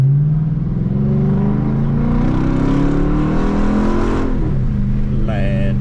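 A car engine runs steadily at idle with a low, even drone, then the pitch dips and shifts briefly near the end.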